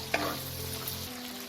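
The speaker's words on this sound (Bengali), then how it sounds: "পেঁয়াজটাকেও আমি হালকা 2-3 মিনিট একটু ফ্রাই করে নেব" Three medium chopped onions fry in a pan for butter chicken, giving a steady close sizzle with a faint clink near the start.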